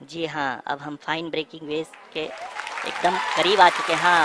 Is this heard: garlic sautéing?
no